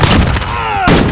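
Loud, close, continuous bursts of rapid gunfire in a Call of Duty: Modern Warfare team deathmatch match, filling the whole moment.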